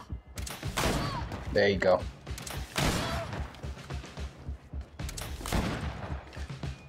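Gunshots ring out in the video game GreedFall, several sharp bursts spaced across the scene with a voice speaking between and over them.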